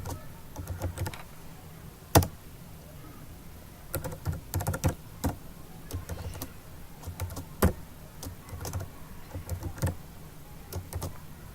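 Code being typed on a computer keyboard in a text editor: irregular bursts of close, sharp key clicks with short pauses and a few louder strokes, no voices.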